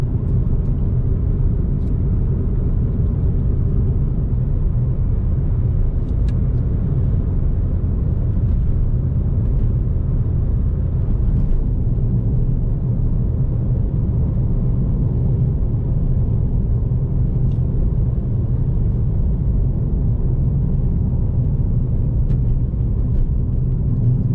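Ford Fiesta ST hatchback driving along a winding Australian road, heard from inside the cabin as a steady, loud engine drone and road rumble that holds constant throughout with no talking.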